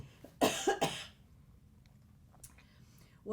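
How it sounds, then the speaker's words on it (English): A person coughs a few quick times in a row at close range, followed by quiet room sound and a faint breath. "Sorry, I had to cough."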